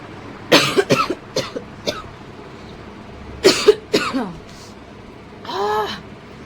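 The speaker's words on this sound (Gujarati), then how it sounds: "ઉધરસ આવે છે" Several sharp coughs in two bursts, loud and close, followed by a softer drawn-out breath or groan near the end.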